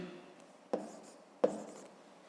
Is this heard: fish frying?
no